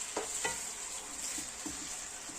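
Onions, tomatoes and peppers fry in a pan with a steady sizzle, while a utensil stirs them in a few soft scraping strokes.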